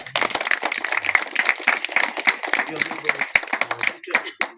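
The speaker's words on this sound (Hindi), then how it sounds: "हम लोग सिस्टर का सुंदर वचन के लिए ताली बजा देंगे।" A gathering at a village parish welcome event claps for a sister's address, brisk uneven hand claps from a modest group close by, with some voices mixed in and a short pause near the end.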